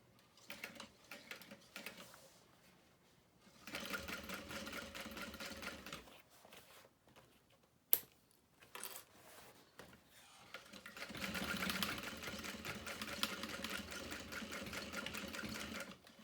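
Sewing machine stitching slowly along the outer edge of a fabric bag, running in bursts with a sharp click between them and steady whirring mechanical runs, close and fairly quiet, no talking.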